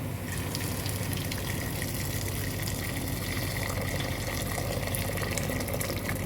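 Water is poured steadily into a pot of rice for chicken kabsa, a continuous close gushing stream that runs unbroken for several seconds with no talking.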